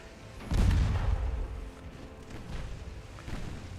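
Deep naval gunfire booms in Ultimate Admiral Dreadnoughts, a heavy rumbling salvo near the start that rolls on and fades, with a softer thud later.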